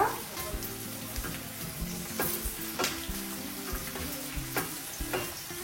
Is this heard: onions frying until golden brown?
yes